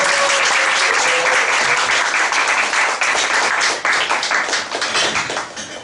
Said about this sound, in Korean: 좋은 연주회를 우리에게 들려주신 차혜련 선생님 한번 박수 다시